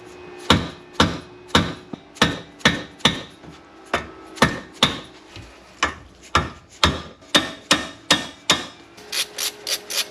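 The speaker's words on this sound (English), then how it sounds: "I'm gonna hit it with the dead blow hammer in the correct direction" A dead blow hammer strikes a wrench during brake and ball joint work on a 1985 Porsche 928 S Euro, sharp loud blows landing about every half second, roughly twenty in a row, ending in a quicker burst.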